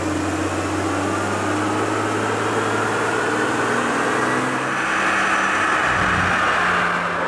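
A Mercedes CL65 AMG V12 held at a steady 4,000 RPM on a dyno, a loud continuous droning engine note with a slight shift in pitch near the end, no talking over it.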